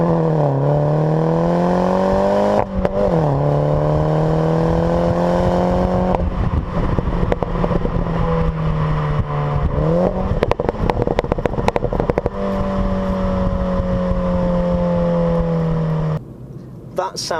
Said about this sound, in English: you also get these pops and bangs from the exhaust, from a little valve that opens up